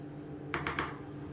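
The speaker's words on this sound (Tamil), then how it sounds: "இப்போ மூடி வச்சுக்கலாம்" Metal lid set onto a pressure cooker while cooking a black chickpea curry, a few quick clinks and clatters close by against a quiet kitchen background.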